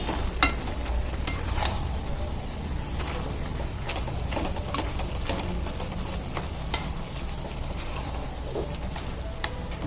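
Malabar spinach greens being stirred in a hot pan give off a steady sizzle with scattered scraping and tapping from the stirring, close and continuous, with no talk.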